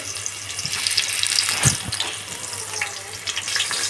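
Onions frying in oil with turmeric, a steady, bright hiss and crackle of hot oil close by, swelling briefly in the middle, while a voice speaks faintly underneath.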